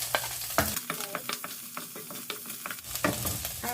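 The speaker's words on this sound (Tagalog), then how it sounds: "igisa natin ang sibuyas" Onion and garlic sautéing in oil in a pan, with a bright sizzle and repeated quick stirring scrapes and taps of the spatula, close and fairly quiet.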